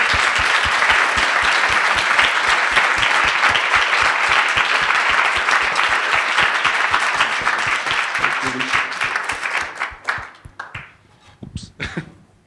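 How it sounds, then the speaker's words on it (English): An audience at a conference side event applauds the panelists in a long, dense round of clapping that holds steady for about ten seconds, then thins into scattered claps and fades out. "please give our panelists a big round of applause"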